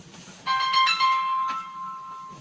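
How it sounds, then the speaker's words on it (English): A business phone rings with a bright electronic tone, first in a rapid warbling burst and then as a long sustained note that fades out, heard up close and alone with no speech. "phone's ringing. Hold on."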